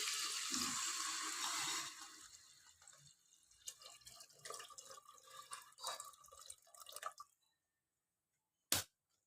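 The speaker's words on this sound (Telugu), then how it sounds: "నేను ఆల్రెడీ బాస్మతి రైస్ కడిగి రెడీగా పెట్టుకున్నాను, అదే వాటర్ యాడ్ చేస్తున్నాను." Water left over from washing basmati rice is poured into a pot for paneer biryani: a steady rushing stream at first, then scattered drips and light clatter, a pause of silence, and one sharp knock at the end.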